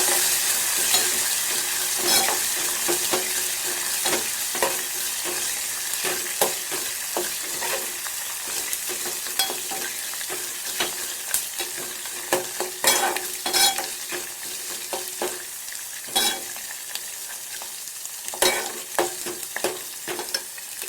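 Tomato dal curry being stirred in a pan while it sizzles steadily, with repeated scraping clicks of the utensil over a constant frying hiss throughout; no talking.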